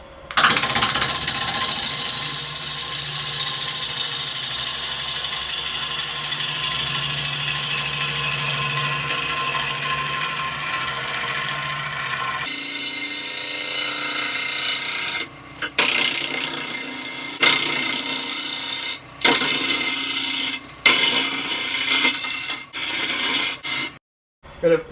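A wood lathe spinning near 1,000 RPM as a bowl gouge roughs out a wild birch bowl: loud continuous hissing cutting noise at first, then the motor hum with intermittent scraping cuts and brief pauses.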